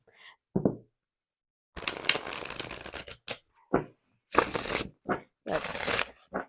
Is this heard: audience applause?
no